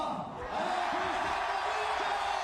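Tennis crowd at the Geneva Open 2016 final roaring and cheering after a tiebreak win, a dense, steady wash of applause and shouts that holds loud throughout.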